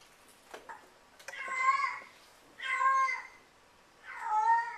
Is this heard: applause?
no